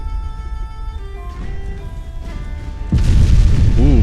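A heavy shell strikes a warship in the naval battle game Ultimate Admiral Dreadnoughts, landing as a sudden loud boom that rumbles low and sustains over steady engine and sea noise.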